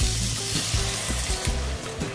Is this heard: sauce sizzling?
yes